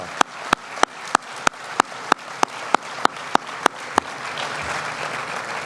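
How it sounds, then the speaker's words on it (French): Audience applause at an international forum on African development, a steady close roar of clapping with regular sharp accents that fades into a lingering wash. "un grand applaudissement au maître d'orchestre Sithami El-Ghorfi"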